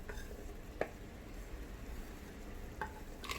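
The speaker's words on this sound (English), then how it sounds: "Give it a quick stir." Vegetables such as broccoli, potato, carrot and beans being stirred in a rice cooker for vegetable biryani, giving a faint, brief scrape near the start and another toward the end, with a soft sizzle-like background.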